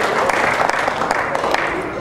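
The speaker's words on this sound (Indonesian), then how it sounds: "Tepuk tangan dong buat yang mau jadi dokter ya." Children in an audience clap at an evening talk, giving a brief burst of dense, fairly loud applause with a muffled crowd murmur underneath.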